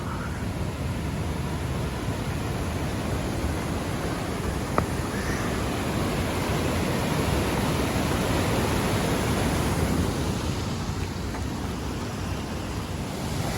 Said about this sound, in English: There's that same waterfall from the top.